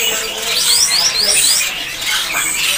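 Green leafbird (cucak hijau) at a Pramuka bird market, giving rapid high chirps and sweeping whistled notes over steady market background noise, fairly loud and close throughout.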